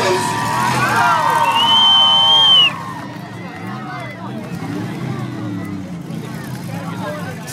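A loud crowd at a fair roars and cheers with whistles rising over the din, then the noise drops to a steadier murmur of voices and chatter.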